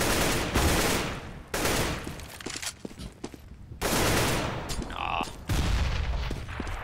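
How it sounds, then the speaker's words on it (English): Several loud, dense bursts of rapid rifle and pistol fire from the tactical shooter CS:GO, broken by short gaps with scattered single shots and a brief exclamation. "so many shots are just coming"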